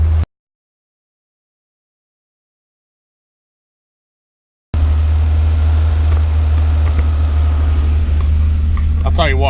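A car engine idling and running steadily at its first start after long work, with a possible exhaust hole and no power steering. A loud, continuous low rumble follows a sudden cutout and resumes.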